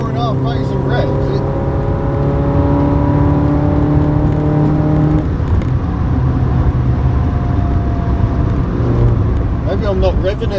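A Toyota AE86 Sprinter Trueno with a twin-cam engine revs loudly and steadily at Silverstone circuit, a sustained droning engine note with rising and falling pitch that keeps going throughout, close and prominent.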